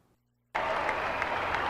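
Crowd of 2,400 faithful applauding to welcome the Pope, dense steady clapping that starts abruptly after a brief quiet moment and continues evenly.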